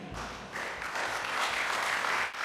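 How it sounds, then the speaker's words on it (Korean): A room full of people applauds a speaker at an evening event, a dense wash of clapping that stays fairly steady and moderately distant for a few seconds. "그래서 방 안에 있던 사람들이 그녀에게 박수를 쳤어요."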